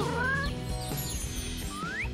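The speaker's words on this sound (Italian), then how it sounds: "Questo gatto robot è perfetto per lei!" Toy robot cat meowing, two synthetic rising meows at the start and end over a steady background hum of music-like tones, moderately loud and close.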